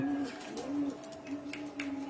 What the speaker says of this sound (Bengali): এই যে দেখুন এটা আমার কথা বলা পোষা ময়না পাখি